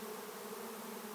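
A docile swarm of honeybees buzzes steadily around an unprotected beekeeper, a close, continuous hum with no pauses.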